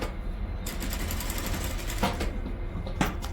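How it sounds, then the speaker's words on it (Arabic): A sewing machine stitches the seam allowances on a dress shirt-collar abaya, running in a steady, continuous mechanical whir with two brief louder bursts, close and alone. "غادي نخيط هاد الزوائد كاملين نثبتهم"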